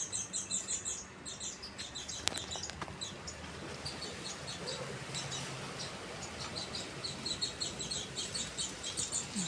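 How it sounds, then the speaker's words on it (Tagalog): Faint, rapid high chirps from small birds come in steady bursts throughout, with a couple of sharp clicks early on. "Parang may maliliit na ibon dito."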